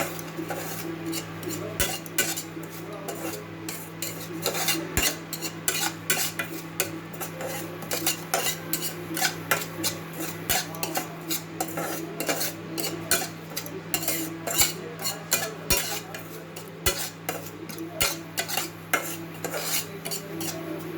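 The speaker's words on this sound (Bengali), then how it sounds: "লাল লাল করে ভেজে নেব।" Semolina being dry-fried in a pan until reddish, with a spoon or spatula scraping and clinking steadily against the metal in a close, busy rhythm and no voices.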